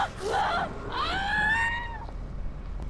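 An enemy in the game Dead Island screams, a rising, wavering shriek that is loud and close, cut off after about two seconds and followed by low rumbling background noise.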